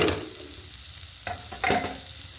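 Borma shak greens stir-fried with freshly grated coconut in a village kitchen: a steady close sizzle broken by two brief bursts of spatula scraping and tossing near the end.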